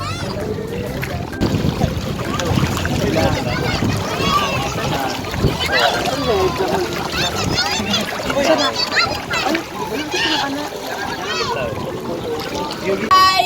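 Boat ride out to a floating cottage, with water splashing and sloshing and a steady engine or hull rumble beneath, while children and adults keep chattering loudly over it the whole way.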